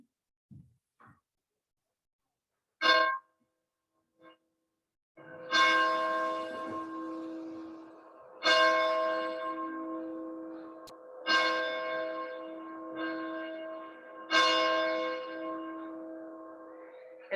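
A church bell at a Unitarian Universalist service rings in slow, loud, ringing strokes with long humming decay, after a few faint taps at the start.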